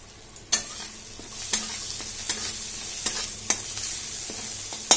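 Spice masala of Kashmiri red chili powder, coriander and cumin powder with a splash of water stir-fries in a pan for tangra fish curry: a constant close hiss broken by about six sharp spatula scrapes.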